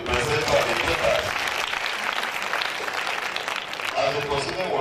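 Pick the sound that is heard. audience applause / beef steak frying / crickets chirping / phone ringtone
audience applause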